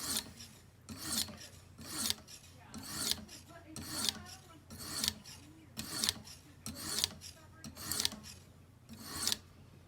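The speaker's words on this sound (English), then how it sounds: "So we'll finish up here on the coarse stone and get down." A knife drawn across a coarse sharpening stone on a Tsprof guided sharpener, giving close, regular gritty rasping strokes about once per second that repeat steadily with no voices.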